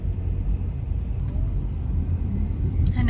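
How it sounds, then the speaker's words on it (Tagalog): Steady low rumble of many cars idling and moving in a crowded parking area near a river in Taiwan, continuous vehicle noise throughout with a faint voice at the end. "Ang dami-daming sasakyan."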